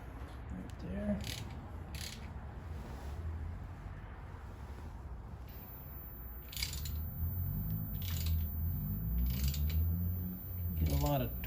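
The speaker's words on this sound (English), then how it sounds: "So 1-inch socket on that right there." A ratchet fitted with a 1-inch socket tightens a pipe coupler in the cooling system of a 1954 Kaiser Darrin, giving a run of light mechanical clicks in bursts against steady background noise.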